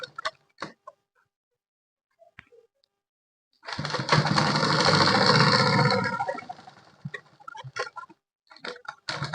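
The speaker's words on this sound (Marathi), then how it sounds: "आता ही शिलाई मारून घेऊ" A sewing machine runs in one steady burst of about two and a half seconds, stitching a trouser back pocket, with quiet clicks of handling before and after.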